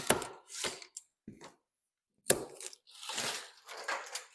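Snips cut through plastic packing bands on a bicycle shipping box, giving a few sharp close snaps and crunches separated by short pauses, with rustling of the loose bands after.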